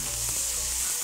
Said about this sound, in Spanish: en este momento estamos sacándole toda esa grasa deliciosa al bacon